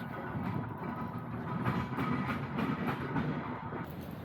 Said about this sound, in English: Steam train over there.